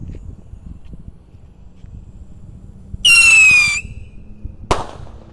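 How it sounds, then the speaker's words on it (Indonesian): A firework rocket whistles upward with a loud rising screech, followed a second later by a sharp bang, all outdoors with no talking. "Roket pirotor, kita lihat ya. Sudah menyala, siap meluncur."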